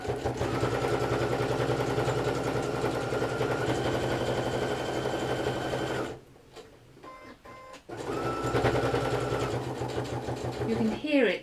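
A sewing machine stitching through thick fabric on a Kindle case runs in a steady, close, fast rattling stream, stops briefly for a few seconds, then restarts as the tone shifts over the thicker layers.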